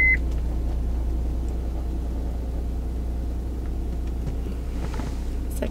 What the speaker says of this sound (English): let me get the car started